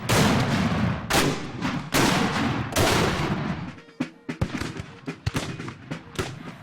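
Civil War reenactment battle with loud booming artillery blasts and rolling musket volleys in the first seconds, then a ragged series of sharp individual gunshots cracking at varied distances.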